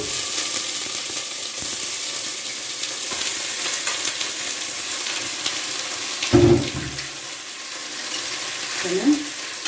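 Meat sautéing in a pot with onion for a Egyptian okra dish, a steady broad sizzle throughout with a couple of louder clanks or stirring bursts near the end, no talk.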